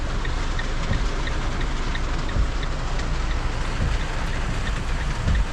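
Dense, steady rain pours down continuously in Alberobello, Italy, a heavy wash of hiss with no pauses.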